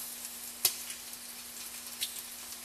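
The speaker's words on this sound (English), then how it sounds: "broil them until the bacon is crispy and the cheese is melted" Bacon-wrapped cheddar hot dogs sizzle faintly under a broiler, a soft continuous hiss with a few sharp pops and crackles standing out, quiet and close.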